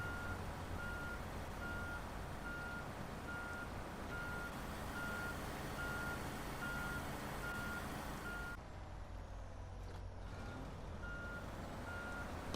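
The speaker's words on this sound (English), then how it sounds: "And then now reversing, it just hasn't got the, between like the guts of the engine or the grip." A Zikz 612H Dolphin truck in SnowRunner reverses at a quarry, its back-up alarm beeping in an even, regular rhythm over a steady engine rumble, with a short pause near the end.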